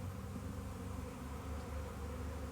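A swarm of bees gathers outdoors near a hive, making a dense, steady buzzing hum that stays constant and fairly close.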